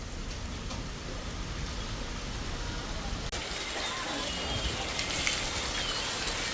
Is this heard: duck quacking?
no